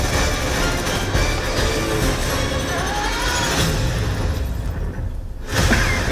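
Crash on a mountain from the Mission Impossible Fallout trailer: a loud, sustained roar of impact and tumbling debris that fills the whole stretch, with a short lull just before it surges again at the end.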